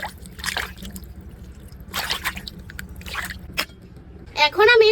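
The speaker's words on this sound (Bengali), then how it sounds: "ভালো মতন ধুয়ে নিচ্ছি আমি মাছটা ভালো মতন দুই তিন ধোয়া দিয়ে দেবো" Pabda fish are rinsed by hand in water, producing intermittent splashing and dripping bursts up close, with a brief voice-like tonal sound at the end.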